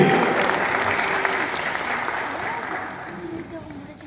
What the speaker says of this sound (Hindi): तो जोरदार तालियां होनी चाहिए सर अब्बास अली इस्माइल के लिए